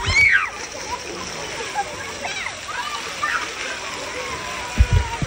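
Water splashes as kids slide and get wet at a kiddie play area near Dunn's River Falls in Ocho Rios, Jamaica, a steady watery wash with occasional sharper splashes and children's voices scattered throughout.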